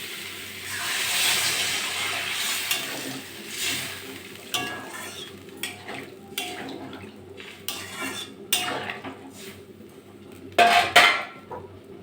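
Water poured into a pan of cut rohu fish and potato curry, a rushing pour at first, then a run of close metallic clinks and knocks from the pot and utensils, with a louder clatter near the end.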